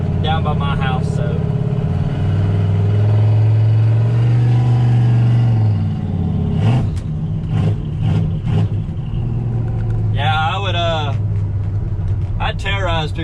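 A lifted Polaris Sportsman 850 ATV engine running and revving on a closed road, loud steady drone with rising and falling pitch, while people talk over it.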